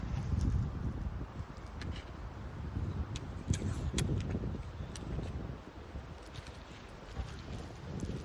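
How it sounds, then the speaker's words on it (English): Outdoor wind gusts and buffets the microphone in a low, rumbling rush, with faint rustling and ticking underneath, steady throughout with a slight lull near the end. "It's very windy out here,"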